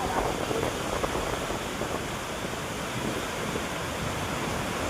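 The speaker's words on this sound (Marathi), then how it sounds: "पावसाचं पाणी आलंय जोरात आलाय पाऊस" Heavy rain driven by strong wind during a storm roars steadily and loudly around a terrace, a continuous wash of noise with no breaks.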